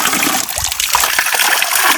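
Very cold water splashes and gushes loudly and close by for a couple of seconds, a continuous wet rushing with small splatters.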